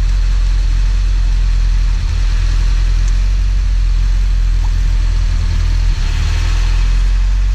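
An Alfa Romeo Giulia Veloce Spider engine runs steadily at close range, a loud, even low rumble with a constant hum and no talk over it.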